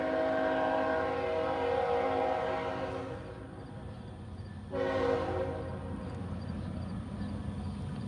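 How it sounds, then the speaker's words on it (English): A freight train rolls past outdoors, its horn sounding in long sustained blasts over the heavy rumble of wagons, loud and close, fading slightly midway before another strong horn blast and continuing rumble. "Let this train go by."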